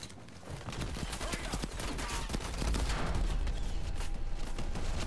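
Loud, dense automatic gunfire from Call of Duty: Cold War rattles continuously in overlapping bursts and volleys, a sustained barrage with no pause, heard alone at close range.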